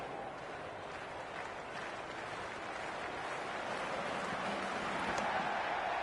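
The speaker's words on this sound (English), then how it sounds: "It's almost palpable, the excitement emanating from this crowd at the moment." Stadium crowd noise from the Cricket 26 video game on PS5, a steady dense roar of spectators cheering throughout, swelling slightly toward the end with no clear talk over it.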